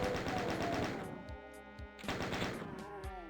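Chain gun fire from the Ultimate Doom video game, level E1M8b Tech Gone Bad, rattles out as a rapid, steady burst with loud repeated shots and brief gaps, close and dense.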